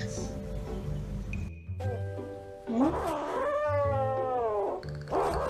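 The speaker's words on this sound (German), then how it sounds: "Das Kätzchen eskaliert ja richtig." A kitten caterwauls and meows in drawn-out, wavering wails that rise and fall, fairly close and alone, with a short high-pitched squeak just before the long cry.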